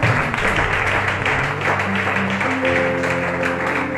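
A church congregation claps together in acclaim of the Lord, steady loud applause filling the hall throughout, with music tones joining underneath.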